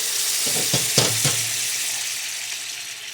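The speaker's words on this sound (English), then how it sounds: "I'm going to turn the heat down to low and add, this is a half a cup of beef stock" Beef stock poured into a hot pan for a beef stew bursts into a loud, close sizzle with a few quick stirring scrapes, then settles into a steady frying hiss, with no talking.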